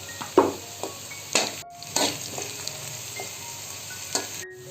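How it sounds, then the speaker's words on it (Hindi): Whole spices frying in oil with browned onions for student-style biryani, a continuous sizzle broken by sharp clinks and scrapes of a spoon against the pot. "खड़े मसाले थोड़े 2 मिनट के लिए हमने किए फ्राई।"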